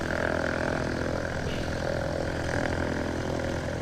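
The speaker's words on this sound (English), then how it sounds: "Little Cessna 152 behind us, Golf Bravo, Papa Bravo Kilo." A Cessna 152 light aircraft's propeller engine drones steadily at an airport, a constant moderately loud buzz with a faint tonal whine and no break.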